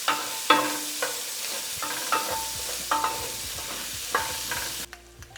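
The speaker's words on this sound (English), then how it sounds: "Add a little bit of oil if you need it. Then just saute until they start to soften." Vegetables saute in oil in a pan with a soft, steady sizzle, broken by a series of sharp utensil scrapes and taps against the pan roughly every second, heard close and alone.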